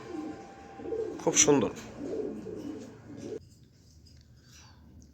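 Racing pigeons, a pair of them, coo softly in a loft, with a person speaking over them for the first few seconds before the sound drops to quiet background.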